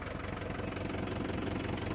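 A Mahindra 575 DI tractor engine runs at idle on a farm, a steady, low, throbbing diesel chug with a regular knocking pulse, fairly quiet and continuous, with no talk.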